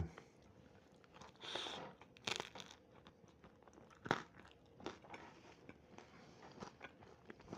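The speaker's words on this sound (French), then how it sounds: "et cette pâte qui croustille" Crispy pizza crust crunches under repeated bites and chewing, a string of close, sharp cracks and crackles over a quiet background with no voices.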